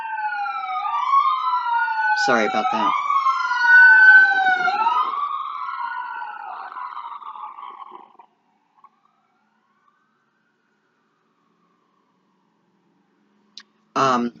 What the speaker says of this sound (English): There's another siren.